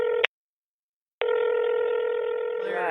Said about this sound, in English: We'll bounce right into the call as David answered the phone